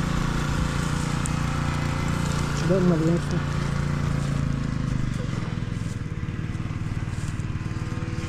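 A grass cutter runs steadily and loud throughout while cutting overgrown weeds around garden plants, a continuous engine drone with a brief rev, and a person speaks briefly over it.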